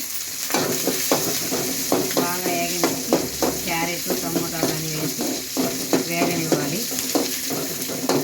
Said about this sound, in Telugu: కరివేపాకు ఎర్రగడ్డ ఆయిల్లో వేయించుకోవాలండి